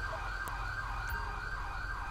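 Ambulance siren in the police game GTA V with the LSPDFR mod, a loud, steady wailing tone that keeps sweeping up and down over a low engine rumble, with no talk.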